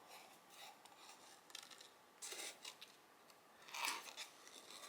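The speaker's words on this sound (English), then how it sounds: "when I hold my scissors, I'm pretty much holding my scissors in the same direction, but I'm using my left hand to turn the paper" Scissors fussy-cut paper for a handmade card in quiet, close snipping and rustling strokes, irregular and faint, as the paper is turned between cuts.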